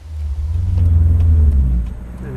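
A turbocharged V8 in a 1984 XE Falcon wagon pulls away, its deep engine note swelling loud and steady, then easing slightly as the car moves off.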